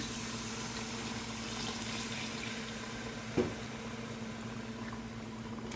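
Water being poured into a cooking pot of browned nihari base, a steady low wash of liquid with a brief clink partway through, close and alone without talk.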